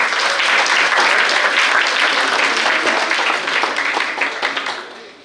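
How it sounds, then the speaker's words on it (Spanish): Loud, dense applause from a large audience welcoming a guest onstage at an event, a steady wall of clapping that holds for several seconds before tapering off at the end. "Un aplauso fuerte."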